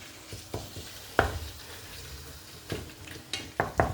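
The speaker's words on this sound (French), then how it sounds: "je vais laisser donc revenir pour que la viande soit cuite" Ground meat browning in a pan for bolognese sauce, with a soft steady sizzle broken by irregular scrapes and clinks as a utensil stirs and knocks against the pan, several sharper hits near the end.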